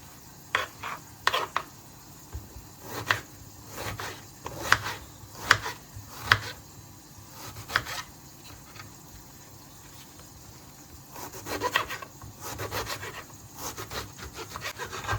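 A knife slices eggplant into thin lengthwise strips, giving close, crisp cutting strokes in an irregular rhythm with brief pauses between them, with no talking.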